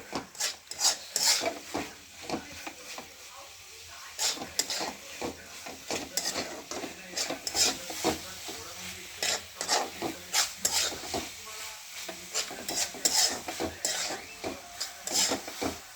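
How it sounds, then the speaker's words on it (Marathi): Spring onion greens stir-fried in a pan for a few minutes, with repeated scraping and rubbing strokes of a spatula over a soft, continuous sizzle. "हे बघा असं 2-3 मिनिटं परतून घ्यायचे।"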